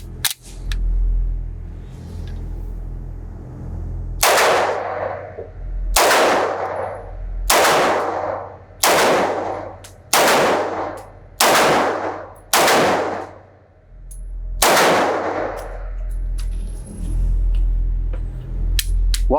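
A Romanian Tokarev TT-33 pistol fires at an outdoor range: eight sharp, loud shots in an irregular sequence, evenly paced in the middle and with longer gaps at the start and end, each with a short echoing tail and no talking.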